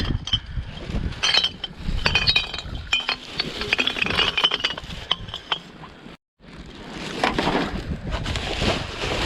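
Glass bottles clink and knock together repeatedly as litter is gathered into sacks outdoors, with irregular rattles and a brief pause before more handling noise.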